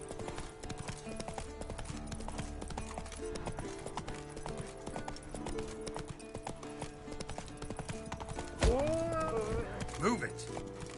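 Roach, a horse in The Witcher 3 video game, gallops in a fast rhythmic clip-clop under game music and voices, followed near the end by a loud neigh.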